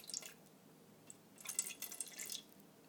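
Distilled water trickles onto a kitchen scale while measuring about 110 grams to hydrate yeast for all-grain homebrewing, with faint, irregular drips and small splashes close by that cluster more densely in the second half.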